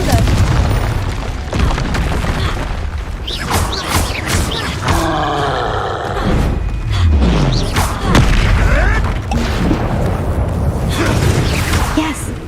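A Confringo spell explosion in the video game Hogwarts Legacy: loud booms and rumbling blasts mixed with spell effects, and character voices speaking over the combat.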